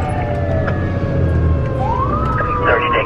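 A Miami-Dade Fire Rescue truck responding with its Screaming Eagle siren, a rising and falling electronic wail that sweeps upward in pitch and holds, heard from inside the cab over a steady engine and road rumble.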